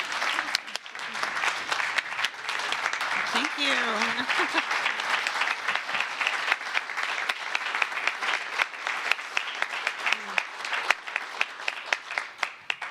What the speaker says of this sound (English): let us all give you a big round of applause